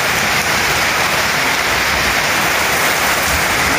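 Steady, heavy rain pours down continuously, a dense hiss of drops with no pauses and no voices.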